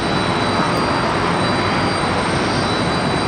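A Republic Airways jet taxis near the runway at LaGuardia during a heavy rainstorm, a loud steady engine roar and whine close by, unbroken with no voices.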